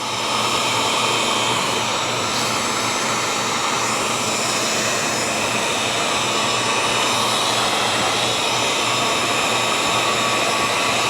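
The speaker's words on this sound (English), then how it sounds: "So take a little heat gun, like that." A heat gun blows steadily to shrink automotive heat shrink tubing on a mask lanyard over a granite countertop, giving a constant loud broadband whoosh and hum that holds unchanged throughout.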